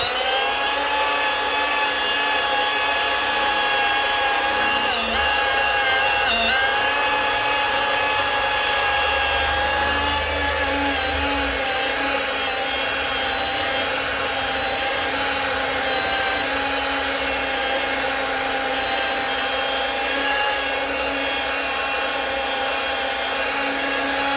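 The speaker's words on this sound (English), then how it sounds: "it's a good idea to always keep the buffing machine moving, whether it's a DA or a rotary" A DA or rotary buffing machine polishing off paint spread onto a car's finish while fixing road rash and chips: a loud, continuous high whine with steady motor drone, close and unbroken throughout, slight shifts in pitch as it moves.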